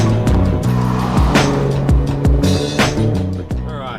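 A Nissan Nismo 380RS, the Z33 350Z, drives with its engine loud and close, revs rising and falling through gear changes in sharp steps, with a voice speaking briefly over it.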